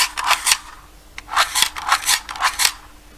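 A battery-free replica flashlight being worked by hand gives a run of rapid, raspy mechanical whirring bursts in uneven clusters, loud and close with short gaps between them.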